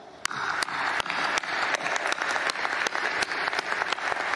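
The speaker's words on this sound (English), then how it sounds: "Please offer them a round of applause." An audience applauds steadily, with scattered sharp claps standing out over a dense patter of hands.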